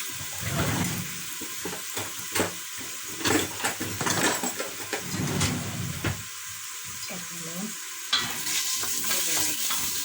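Spoon stirring Turkish pilaki barbunya beans in a sizzling pan, with scraping and a steady fry hiss throughout; brief talk can be heard during it.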